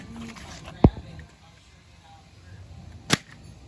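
A CEN Racing 1:10 scale RC car drops onto the ground, landing in one sharp, loud impact, then a second crisp knock follows a couple of seconds later over faint background murmur.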